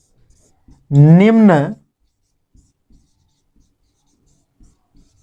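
Soft scratchy pen strokes on paper come in short scattered bursts, close and quiet, during a biology lesson, with a brief spoken word early on.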